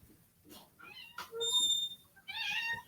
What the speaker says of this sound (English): Oh, and our cat has just come in the room.